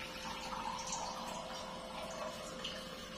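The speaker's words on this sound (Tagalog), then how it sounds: "2 cups of water." Water pours into a cooking pot while making humba, a continuous splashing rush that runs evenly throughout, near and moderately loud, with no talking.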